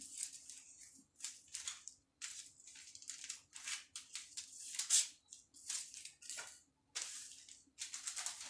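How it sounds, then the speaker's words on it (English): Scissors cut through fabric for a shawl collar jacket in repeated crisp snips and slices, close and fairly quiet, coming in uneven bursts with short pauses between strokes. "Take your scissors and cut this particular one out."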